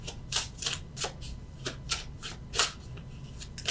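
Tarot cards shuffled and drawn by hand, a run of crisp riffling flicks and slaps in an irregular rhythm, close and fairly quiet, with no talking.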